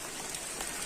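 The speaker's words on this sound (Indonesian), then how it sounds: "Di saat suasana hujan seperti ini ya." Steady rain falling on surfaces in a hilly Indonesian countryside village, a dense even patter of drops with a few louder splashes, close and continuous, with no voices.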